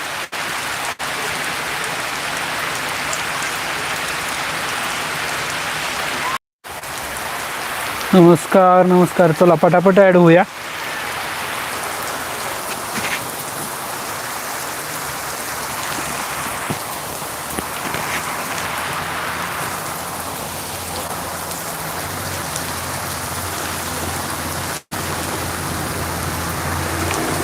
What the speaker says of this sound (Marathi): तुम्हाला यात आता पावसाचा पण आवाज येत असणार आहे